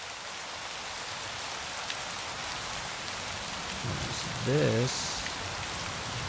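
Synthesized wind and rain effect from a synth patch, a steady broadband hiss like heavy rain with a low rumbling wash, continuous and moderately loud, with a brief spoken phrase near the end.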